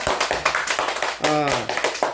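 Children clapping for a correct answer to a riddle, quick uneven claps close by, mixed with a voice speaking over them.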